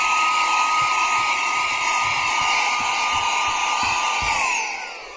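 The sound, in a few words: cordless vacuum cleaner running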